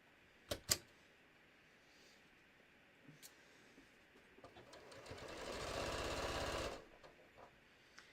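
Sewing machine quilting fabric for a bucket hat, a couple of sharp clicks first, then a steady buzzing run of stitching for about two seconds that stops abruptly, fairly quiet and close.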